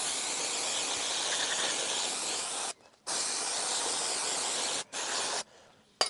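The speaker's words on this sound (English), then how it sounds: "Let's give it a blaster brake cleaner." Brake cleaner sprays from an aerosol can onto an Alfa Romeo Giulietta engine camshaft, loud steady hissing bursts close up, broken by two short pauses and ending with a final brief spray.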